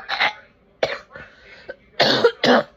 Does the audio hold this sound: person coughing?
yes